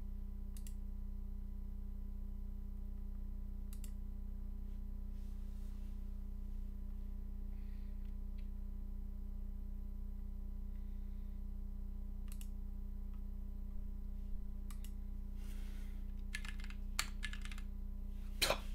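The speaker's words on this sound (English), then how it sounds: "See, I started typing on this thing" Typing on a keyboard fitted with GMK Space Cadet keycaps: steady, close keystroke clicks under a constant low electrical hum, with a few louder clacks near the end.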